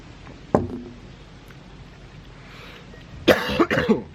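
A single sharp cough, then a pause and a quick burst of several louder, rougher coughs close to the microphone.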